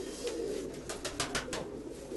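A moulting Crimean pigeon coos close by in a short run of rolling, pulsing notes.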